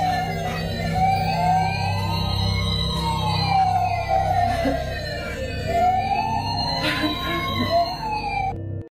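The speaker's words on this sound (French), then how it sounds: "D'une manière ou d'une autre, un camion de pompiers jouet se déclenche au moment où la famille écoute le message de papa." A toy fire truck's siren wails loudly and continuously in a home, its electronic tone rising and falling in repeated sweeps.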